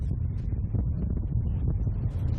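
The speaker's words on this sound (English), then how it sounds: "It's windy, it's chilly." Gusty wind buffets the microphone in chilly weather in Bruges, making a continuous low rumbling roar that rises and falls slightly in waves.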